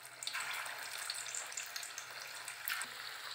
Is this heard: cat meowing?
no